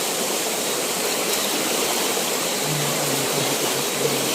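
River water rushing in a constant, full roar, loud and close, with a faint low hum underneath and no speech.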